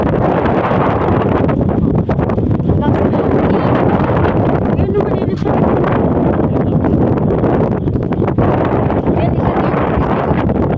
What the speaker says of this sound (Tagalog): Lakas ng hangin. Kasi may bagyo dito sa tayo.